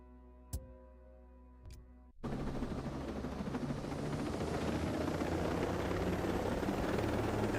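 In Ghost Recon Breakpoint, a helicopter starts up after two sharp clicks, then its rotor drones loudly and steadily with a fast, beating whir, heard up close.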